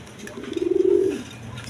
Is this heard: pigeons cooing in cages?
yes